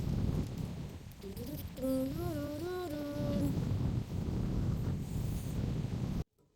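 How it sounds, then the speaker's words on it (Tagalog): Steady, loud wind buffeting the microphone for several seconds, with a brief sung or hummed tone rising over it early on, then cutting off abruptly. "Masyadong mahangin."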